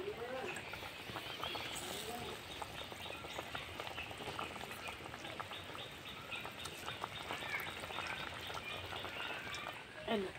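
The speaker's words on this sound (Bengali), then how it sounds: "টকটা ফুটে গেছে, মাছটা দিয়ে দেবো।" Sour raw mango broth bubbling in a pot for Bengali puti fish curry, a soft steady simmer of small pops and crackles, faint and close, continuing evenly throughout.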